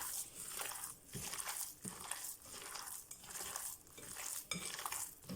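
Wet, squelchy mixing and pressing of minced chicken with dried garlic in a bowl by hand, repeating in a steady rhythm for several seconds, close up with no talking.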